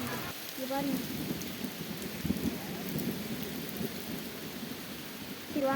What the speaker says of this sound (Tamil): செம மழை பெஞ்சிட்டு ஃப்ரெண்ட்ஸ்.